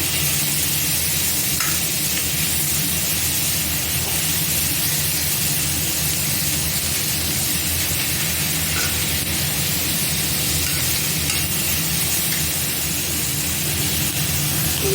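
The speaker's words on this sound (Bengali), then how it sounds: "আদা কুচি, রসুন কুচি আর কাঁচা লঙ্কা দিয়ে ভালোভাবে নাড়াচাড়া করতে হবে।" Ginger, garlic and green chilli frying in hot oil while being stirred, cooked as a base for mutton mughlai. A steady, close sizzle holds for the whole stretch with no voices.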